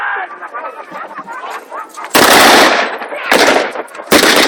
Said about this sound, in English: The Bren gun on their flanks has caused a lot of casualties to the German infantry squad.